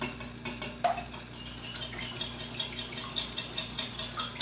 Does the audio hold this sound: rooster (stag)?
no